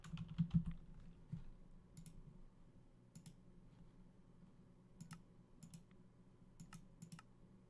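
Quiet clicking of a computer keyboard during Minecraft NuclearCraft play, a quick flurry of keystrokes at the start followed by sparse, scattered key taps over a low hum.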